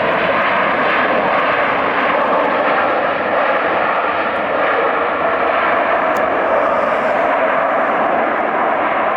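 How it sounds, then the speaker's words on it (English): A Lufthansa Boeing 747 airliner lands at LAX with a loud, sustained engine roar that stays steady and close throughout, with no talking. "that was a quick landing"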